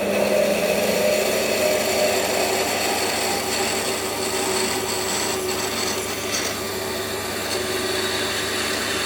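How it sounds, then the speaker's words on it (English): A drill bores a 12mm hole through metal in a shed workshop, a continuous grinding, rasping whir with some scraping bursts toward the end, close and steady with no talking. "I'm going to drill it out with a 12mm hole"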